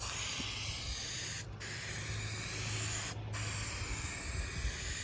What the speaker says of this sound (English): I'm going to spray half of the liner with it.